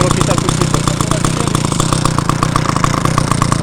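A model aircraft engine runs steadily at full throttle with a fast, even buzzing pulse, loud and close and unchanging throughout, with someone talking over it.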